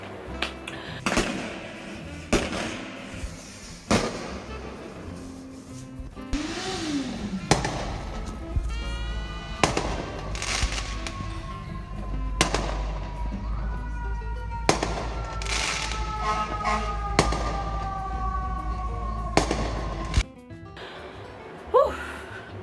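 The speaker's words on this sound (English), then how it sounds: "Stop popping these goddamn firecrackers" Firecrackers pop outside in a rapid, irregular string of sharp cracks. Some bursts come in clusters and others land far apart, with whistling streaks between them and occasional breathy vocal sounds in the foreground.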